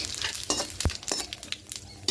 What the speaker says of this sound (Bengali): এবার এখানে দিয়ে দেবো গোটা গরম মশলা গোটা জিরে দারুচিনি লবঙ্গ এলাচ